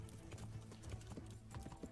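Horse hooves clip-clop in the medieval video game Kingdom Come, a quick, steady run of faint hoofbeats lasting under two seconds with no one talking.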